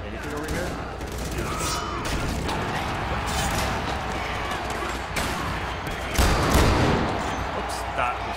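Two .700 Nitro rifle shots fired back to back in Far Cry 4's arena while hunting boar, loud booming reports over a dense, noisy game background with a person talking throughout.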